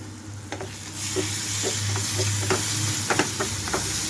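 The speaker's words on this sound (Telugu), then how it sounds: "మీడియం ఫ్లేమ్లో ఉంచి వేయించుకుంటున్నాను." Egg curry masala for an Andhra-style egg gravy fries in a pan over a medium flame, giving a continuous close sizzle broken by intermittent stirring scrapes and taps, with no talking.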